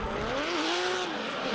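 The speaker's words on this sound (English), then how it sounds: "That angry turbo V8 under the bonnet would be a weapon to drive." A drift car with a turbo V8 engine slides with squealing tires, a sustained high-pitched squeal wavering over a steady engine roar, loud and continuous.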